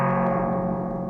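A modular spring reverb sustains a dense, steady wash with a wide bell boost around the upper mids adding brightness and a hiss of noise, droning continuously and loud for about a second.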